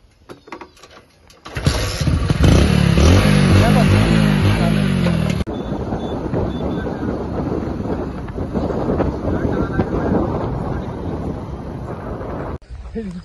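A motorcycle engine catches after a kick start and revs hard and loud, then drops to a steady rough running noise, with voices faintly underneath.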